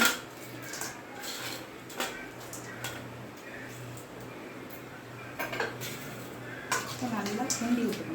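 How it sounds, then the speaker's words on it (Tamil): A spoon scraping and clinking against a pot while nandu (crab) gravy is stirred, a steady run of metallic scrapes and taps with a low background hum. "நல்லா கிண்டி விட்டுக்கணும்."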